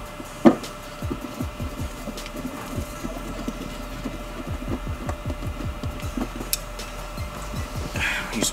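A large Phillips screwdriver turns out screws during a Subaru BRZ / Toyota FRS installation, giving a rapid series of close ratcheting creaks and squeaks over a low hum, with one sharp knock near the start; no talking.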